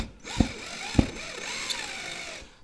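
A power driver runs screws into a record board, giving a steady whirring drone with a couple of sharp clicks near the start, close by.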